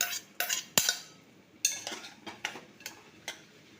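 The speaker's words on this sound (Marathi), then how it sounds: "आता ती परतून घेते मी मटकी." A utensil scrapes and clinks against a pan as moth beans are sautéed for misal. The sharp metallic taps and scrapes come irregularly, fairly close, with quiet gaps between them.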